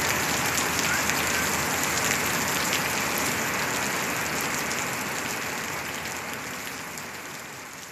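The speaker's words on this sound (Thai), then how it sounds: "ตอนนี้ทั้งลมทั้งฝนนะครับ สาดเข้ามาในบ้านเปียกหมดเลย" Heavy rain from tropical storm Noru pours steadily in a dense, hissing roar, with gusty wind blowing it into a house, gradually easing slightly toward the end.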